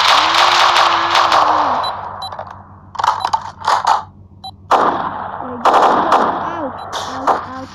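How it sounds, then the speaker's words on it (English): Rapid bursts of gunfire from the Roblox game Prison Life crackle over a steady background hum and game music, with loud clustered shots toward the end. "now I shot them"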